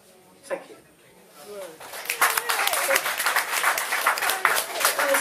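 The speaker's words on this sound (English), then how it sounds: "Another round of applause for the wonderful Tim" Audience applause after a poetry reading at an open-mic event, starting with a single clap and swelling into steady, fairly close clapping from a small crowd that lasts several seconds.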